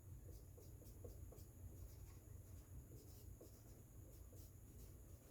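Pen scratching across paper while working out an HTML exam answer, a faint run of quick, irregular strokes, close and quiet, with no talking.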